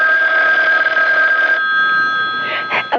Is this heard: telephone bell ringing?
yes